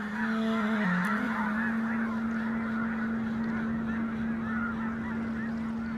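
A huge flock of migrating red-breasted geese honks in the Danube Delta, a dense, continuous chorus of overlapping calls mixed with a steady low drone.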